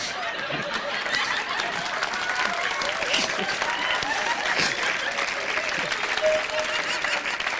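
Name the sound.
audience applause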